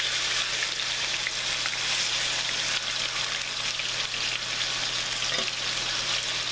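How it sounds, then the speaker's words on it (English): Chicken thighs, about five of them, sizzle and fry steadily in a pan, a dense continuous crackle at even loudness with no talking. "we're going to brown these up"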